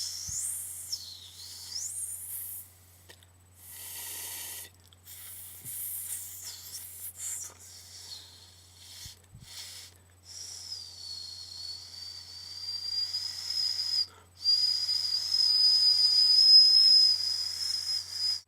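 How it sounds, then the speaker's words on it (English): Airy, hissy whistling with wavering pitch, breathy and uneven at first, then a steadier sustained whistle with short warbles, close up. "I can whistle through the gap in my teeth."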